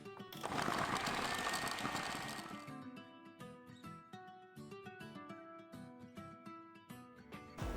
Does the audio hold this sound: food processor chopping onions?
yes